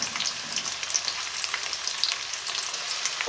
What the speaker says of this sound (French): Je tourne mes cubes de tofu régulièrement pour bien les faire dorer